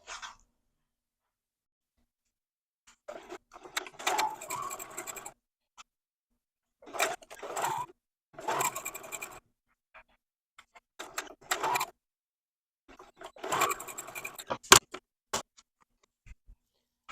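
Sewing machine stitching a row of quilt squares together, several short bursts of rapid mechanical needle chatter separated by pauses of near silence.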